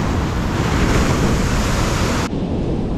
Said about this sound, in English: We're at the beach this time.